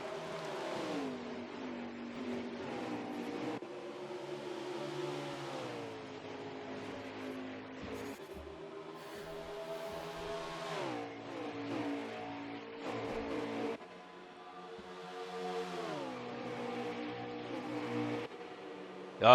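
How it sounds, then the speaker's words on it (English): Engines of NASCAR trucks from the NASCAR Heat video game roar around virtual Watkins Glen International, several revving and shifting pitch as they pass and accelerate out of corners, a steady loud pack sound with no talk. "Let's listen to some of the trucks as they roar around Watkins Glen International."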